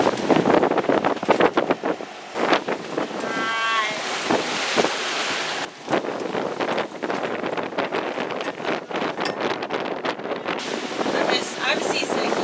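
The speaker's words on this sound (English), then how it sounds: "Yo, these waves have got big." Big ocean swells, about two meters, pound and slosh against a sailing boat at sea, a continuous roar of water and heavy wind buffeting the microphone, with people talking over it.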